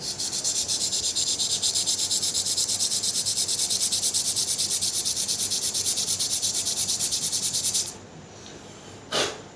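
A file rasping a notch deeper into a crossbow bolt cut from an old tent pole: fast, even back-and-forth strokes, close and loud, that run steadily for about eight seconds, stop, and end with one last brief scrape.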